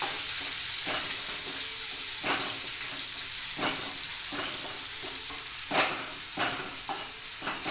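Onions being stirred in a hot pan for zunka, a Maharashtrian dish: a steady sizzle hiss sits under periodic scraping strokes of a spatula against the pan, heard close with no talking.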